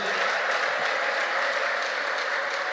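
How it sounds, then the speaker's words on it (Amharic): A church congregation claps hard in praise, a thick, continuous roar of applause with ululation woven through it, loud and sustained from start to finish. "እልልታ ጭብጨባ ለጌታ አምጡ"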